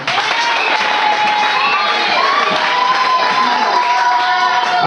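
A church congregation bursts into continuous applause and cheering, a dense roar of clapping and raised voices filling the hall without pause.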